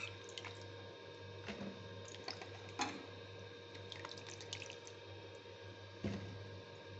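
Okra is washed by hand in a bowl of water, making soft, faint splashes, drips and squishy rubbing sounds. A few slightly louder sloshes stand out over a quiet, steady background.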